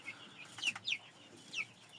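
A few short, high chirpy peeps from young chicks, scattered and close by, with quiet background noise between them.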